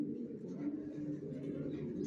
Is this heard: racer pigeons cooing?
yes